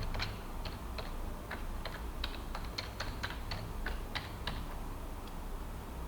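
Keys on a computer keyboard are tapped in an irregular burst as a new admin password is entered, each crisp click faint and close over a quiet background hum, with no voices.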